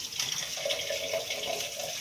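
Hot water runs steadily from a kitchen sink faucet, a continuous close hiss and splash with no pauses and no talking.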